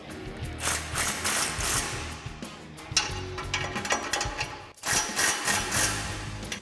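A cordless impact driver with a 14mm socket runs in exhaust hanger bolts on a Tacoma, giving bursts of ratcheting, mechanical hammering that stop briefly and resume, close and fairly loud.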